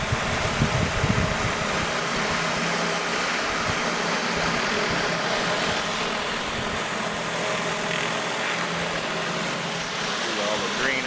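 A pressure washer's surface cleaner blasts green algae and black mold off a surface with a loud, steady roaring hiss. It continues unbroken throughout, with no talk.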